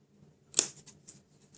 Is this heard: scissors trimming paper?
yes